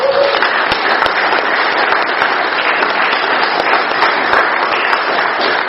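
Applause from the audience at an Alcoholics Anonymous meeting, a steady, even wash of many hands clapping that carries on without pause.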